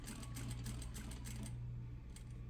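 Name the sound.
sewing machine stitching fabric patch pocket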